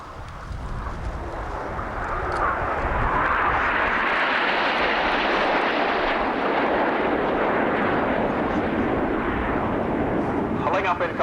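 Jet aircraft of an RAF Scampton airshow display team pass in formation, a broad roaring wash that swells over a few seconds and then holds loud and steady, with wind buffeting the microphone throughout.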